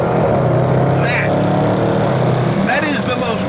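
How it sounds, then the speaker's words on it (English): A 2015 Range Rover Sport SVR accelerates on the road, its exhaust giving a loud, steady roar with a couple of brief rising whines over the top. "That is the most roary exhaust note of any major car maker right now."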